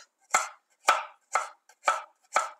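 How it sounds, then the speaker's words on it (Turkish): Coarse chopping of garlic cloves with a kitchen knife on a board: five sharp, evenly spaced chops about half a second apart, close and clear, with no talking. "iri bir şekilde doğruyorum."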